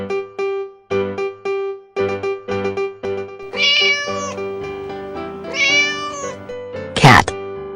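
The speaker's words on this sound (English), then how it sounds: "Cat." A cat meows repeatedly in a children's animal train cartoon, two drawn-out, close meows over a plucked musical backing, followed by a short bright chime.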